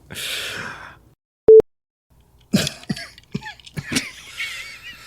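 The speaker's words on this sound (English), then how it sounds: "it was spicy and it caused me to cough" A single person coughs a few times up close after a sip of ginger ale, preceded by a breathy rush and a short electronic beep.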